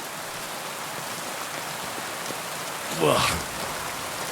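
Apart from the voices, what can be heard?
rain in video game Kingdom Come Deliverance 2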